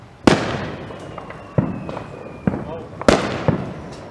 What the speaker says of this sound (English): They're shooting some hardcore fireworks out there.